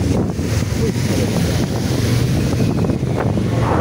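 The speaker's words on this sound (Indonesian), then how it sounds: "Air terjun nopo iki?" A waterfall in the Petungkriyono forest of Pekalongan, heard as a loud, unbroken roar of rushing water blended with wind buffeting the microphone.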